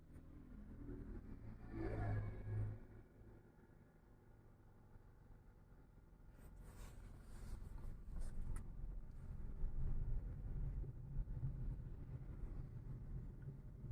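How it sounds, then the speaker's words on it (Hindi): A car pulls away in second gear without any revving, producing a low, steady engine hum. The hum is quiet and swells slightly as the clutch engages and the car creeps forward, with no talking. "अब मैं गाड़ी की क्लिच छोड़ के देखता हूँ बिना रेस दिए।"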